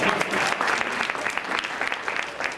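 A crowd at a lecture claps steadily, a dense patter of many hands applauding continuously at moderate loudness.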